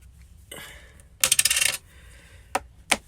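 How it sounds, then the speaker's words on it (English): Small metal magnets snapping together, heard as a burst of sharp rattling clicks followed by two distinct crisp clicks, close and clear with no talk. "Get my magnets out of it. And then, ouch, they pinch when they click."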